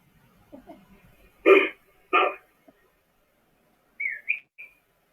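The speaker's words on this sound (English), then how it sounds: "Oh, that sounds like a bird." A few short bird calls ring out against quiet: two louder harsh squawks, then a brief rising whistled chirp a moment later.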